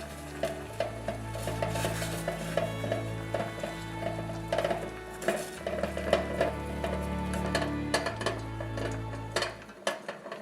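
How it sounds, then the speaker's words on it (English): A coconut oil, beeswax and vitamin E mixture is stirred in a double boiler, with continual scraping and clinking of a utensil against the pot over a low steady hum. "we put this coconut oil, beeswax, and vitamin E mixture into a double boiler to melt it"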